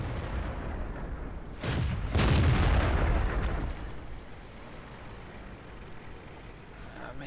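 Tank cannon shots in World of Tanks, fired from a Cromwell: two heavy booming blasts close together, with a rumbling tail that fades into a steady low engine drone.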